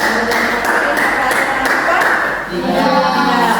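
Applause for a student group after a classroom presentation, steady clapping from many hands filling the whole stretch alongside a voice speaking over it.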